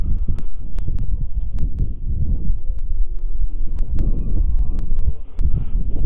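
Wind blows steadily in an open rural yard, a low rumbling gusty roar broken by scattered sharp clicks, with nobody speaking.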